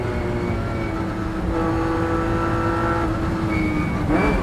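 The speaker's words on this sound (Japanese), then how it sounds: "4速から3速へとシフトダウンの後、インディアナポリスコーナーをクリア。" 1994 Honda NSX race car at Le Mans heard from the cockpit, its engine holding high revs with a loud sustained whine and slight pitch shifts before a downshift, continuous, without talk.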